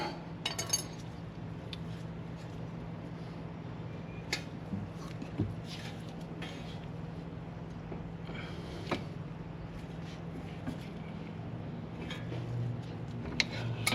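Brake caliper being refitted on a Toyota Camry front brake, with scattered light metallic clinks and taps at close range over a quiet background hum, sparse and irregular.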